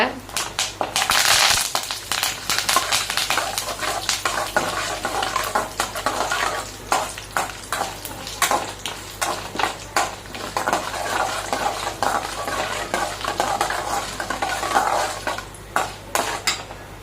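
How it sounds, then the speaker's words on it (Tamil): Mustard seeds, urad dal and curry leaves crackle and splutter in hot oil in a pan while making wheat rava upma, a dense, steady sizzle with sharp popping bursts and occasional utensil clinks throughout. "கடுகு உளுத்தம் பருப்பு வந்து நல்லா பொறிஞ்சு வரட்டும் கருவேப்பிலை போட்டுக்கோங்க"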